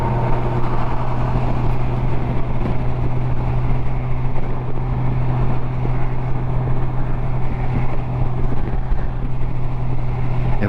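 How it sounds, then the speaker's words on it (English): Steady roaring wind buffets a closed helmet while riding a motorcycle on Interstate 90, blended with a constant low engine drone at highway speed, loud and unbroken throughout. "And you can hear the noises, the wind,"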